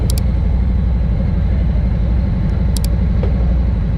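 A 2021 Harley-Davidson Road Glide Limited touring motorcycle engine runs with a steady, loud, close low rumble throughout, broken by a few faint clicks.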